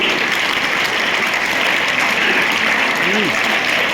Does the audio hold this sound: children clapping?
yes